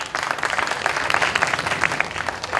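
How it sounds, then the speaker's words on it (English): Audience at a design academy convocation ceremony applauding steadily, a dense wash of clapping hands that stays loud and even throughout without a break. "So round of applause for all the people involved in that."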